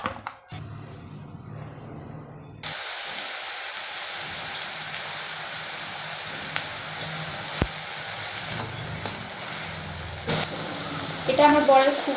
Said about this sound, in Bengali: তো আমাদের ছুরি আলু ভাজা রেডি।